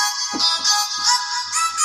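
A rough shouted voice note processed into an EDM synth with fattening distortion, delay and reverb plays as a sustained, bright buzzing tone with repeated echoing swells, filling the space alone without speech.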